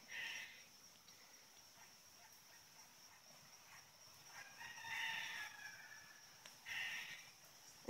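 A rooster crows twice in the distance, faint against quiet outdoor background noise.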